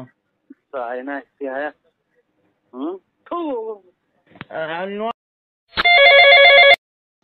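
A telephone rings with one loud, steady, tonal ring of about a second, right after a stretch of close conversational speech.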